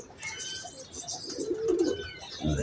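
Pigeons cooing nearby in soft, throaty bursts, with faint chirps and rustling in the background.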